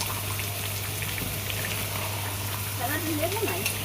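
Chicken kosha with homemade cinnamon and clove garam masala sautés in a pan, giving a steady, close crackling sizzle like light rain. A low hum runs beneath it and a voice speaks softly near the end.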